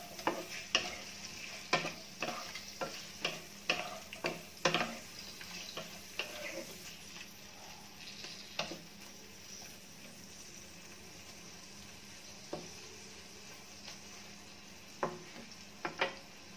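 Prawns rubbed with turmeric and salt fry in a pan. A low, continuous sizzle is broken by sharp spitting pops and clicks, more frequent early on and sparser later, with no talking.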